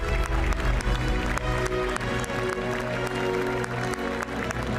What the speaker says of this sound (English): to a rapturous applause here in Amsterdam